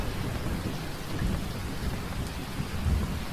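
Heavy downpour with rolling thunder, a dense steady roar of rain with low rumbles swelling and fading throughout, used as a stormy horror-story backdrop.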